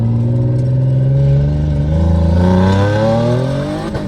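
Turbocharged VQ35 engine in a car revving hard on a dyno, a loud sustained pull with rising engine harmonics that climb steadily over about four seconds, close and continuous with no talk.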